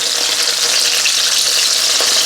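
Garlic frying in a pan for a chicken soup gives a loud, steady, dense sizzle throughout with no voices over it.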